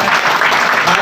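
A roomful of people at a home meeting claps steadily and loudly, dense continuous applause with no gaps for the full second.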